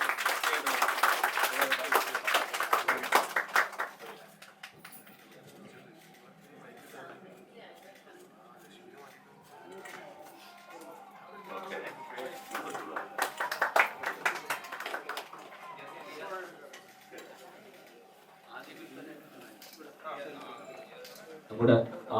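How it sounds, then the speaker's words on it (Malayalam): An audience claps at a shop inauguration, with a burst of applause at the start and another around the middle, while people talk throughout the gathering. "എല്ലാവരും നല്ല കൈയടി കൊടുക്കണം."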